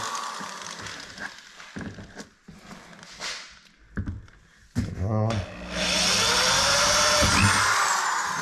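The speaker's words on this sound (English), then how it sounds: "So basically grab a drill." A power drill whirs in short bursts, drilling mounting holes for a gun case kit on a Can-Am Defender HD11 side-by-side, stopping and starting, then runs for a long sustained stretch at the end, close and loud.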